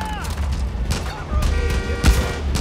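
Enemy gunfire in Far Cry 5 aimed at the player: bursts of shots with a heavy boom near the two-second mark, mixed with game sounds and some voice activity.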